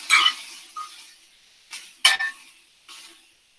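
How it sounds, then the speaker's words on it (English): Kielbasa sausage stirred in a pan for Polish hunter's stew: a few short scraping clinks of a utensil against the pan, spaced irregularly over a few seconds, close and moderately loud with quiet gaps between. "I'm just going to stir the pan here real quick"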